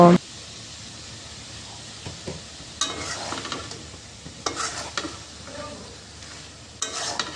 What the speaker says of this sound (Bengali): ঢাকনা দিয়ে ঢেকে রেখে চিকেনগুলো রান্না করব